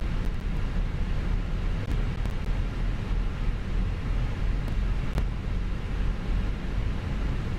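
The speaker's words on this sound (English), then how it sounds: "Start hearing the rumble now winding up." Airbus A319 jet engines spooling up in the MSFS 2024 flight simulator, a steady broadband rumble and roar that holds at a constant level throughout, with no voices over it.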